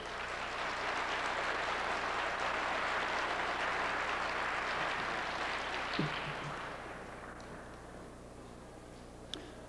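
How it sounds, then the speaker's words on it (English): An audience applauds at a lecture, a steady wash of clapping from a crowd that holds for several seconds and then tapers off, with a few louder claps near the end. "Let's give a round of applause,"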